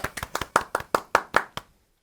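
A studio audience at a Korean culture talk show claps for two changgeuk performers, a married couple about to sing the love song from Chunhyangga. About nine crisp, evenly spaced claps ring close and clear, then stop abruptly.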